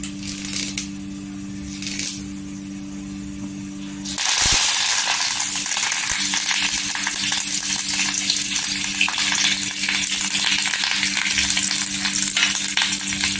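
Curry leaves drop into hot oil with mustard seeds for a tomato chutney tempering. A low hum gives way to a sudden loud, bright sizzle that crackles on steadily and close by.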